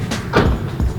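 The trunk of a newly delivered car opens with a few short clicks and soft thumps from the latch and lid, close by and brief, with no voices.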